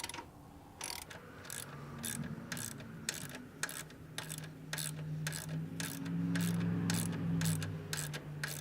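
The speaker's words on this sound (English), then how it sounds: "Tighten this bolt down." A ratchet tightens a bolt on a Honda CTX1300 centerstand, giving a fast, steady series of sharp clicks close to the microphone, with a faint background hum and no talking.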